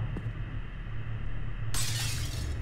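Glass smashing in the video game Payday 2 during a diamond store heist, one sudden loud shatter of breaking glass over a steady low background hum, with no talk.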